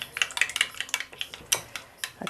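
A spoon stirs and beats crushed ingredients in a bowl for an Afghani-style eggplant dish, making quick, bright clinks and scrapes in a steady, busy rhythm, close and fairly loud, with no voices.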